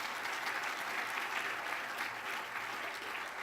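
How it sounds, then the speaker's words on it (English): An audience at a chamber of commerce gathering applauds its leaders, an even, continuous patter of many hands heard quietly, as if from a distance, without any voices over it. "Nice round of applause to their leaders."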